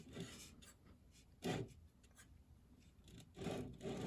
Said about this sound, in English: And just run the glue along. Rub that in.